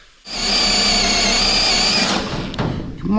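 A power drill whines steadily at high pitch for about two seconds while boring out soft copper rivets on a boat hull, then spins down, with a few clunks and handling noises afterward.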